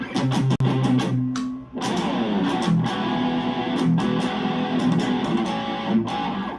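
Distorted Epiphone Les Paul Standard electric guitar through a delay effect plays sustained notes and picked phrases, with echoing repeats trailing each note, loud and close.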